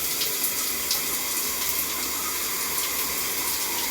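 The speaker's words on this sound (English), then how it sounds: "I feel like I'm screaming because the water is so loud" Shower water running loudly as a steady, close broadband hiss and splash that holds at an even level throughout, with no talking.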